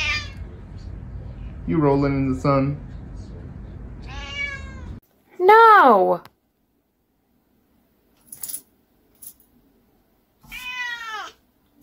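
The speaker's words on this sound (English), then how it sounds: "What are you meowing about?" A nearby cat meows several times, some calls drawn-out and rising, between stretches of a person talking and brief silences.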